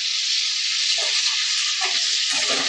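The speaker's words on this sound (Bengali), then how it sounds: "কুচনো পেঁয়াজ দিয়ে এবার আলুর সাথে একসঙ্গে ভেজে নেব।" Chopped onions and potatoes fry together in hot oil for a brinjal and potato curry, giving a steady, close hissing sizzle with small crackles throughout.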